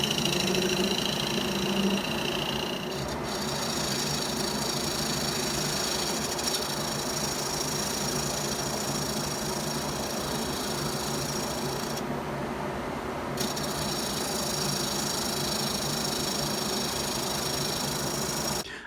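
A wood lathe spins steadily while a shear scraping tool works the turning wood, producing a continuous close, even mechanical hum and rasp that holds for the whole stretch without pause.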